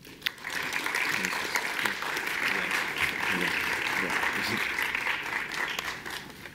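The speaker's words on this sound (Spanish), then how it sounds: "les pido un aplauso para los panelistas" An audience applauds education panelists at a youth public policy forum, a dense, steady round of clapping that swells and fades over several seconds, with faint voices beneath.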